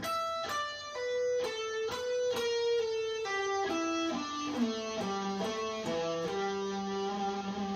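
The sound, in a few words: guitar pentatonic run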